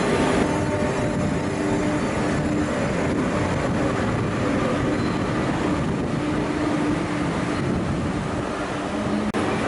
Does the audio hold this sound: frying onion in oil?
no